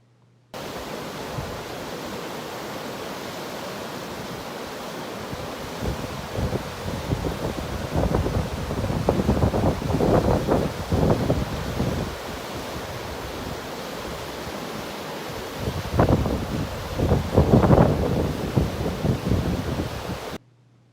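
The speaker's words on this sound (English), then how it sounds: "this small video that I took of a waterfall that we were hiking near and camping nearby" Steady rushing roar of a waterfall in Yosemite, heard from a nearby camping and hiking spot, with a constant broadband wash and slightly louder surges midway and near the end; no voices.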